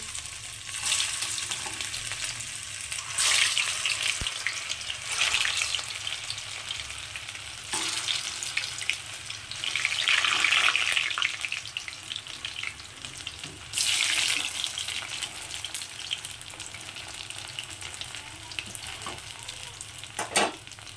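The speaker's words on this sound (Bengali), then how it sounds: "এগুলোকে এখন আমি এই তেলের মধ্যে দিয়ে দিচ্ছি" Round bhetki fish kebabs frying in hot oil, a loud continuous sizzle that swells in bursts as pieces go in and shift, with occasional soft knocks and no voices.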